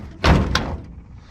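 Door of a 1947 Lincoln Club Coupe with a worn latch being shut, one close, dull thud followed by a short rattle, heard alone.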